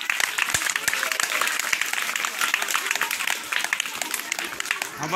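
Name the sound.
audience clapping loudly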